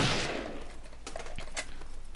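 Gunfire in the Tactical Intervention video game, a few sharp distant-sounding shots rising out of a steady hiss of background noise, with no voices.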